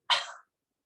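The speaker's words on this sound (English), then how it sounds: "Give a little cough" One small, soft cough, a single short breathy burst that ends quickly and leaves silence.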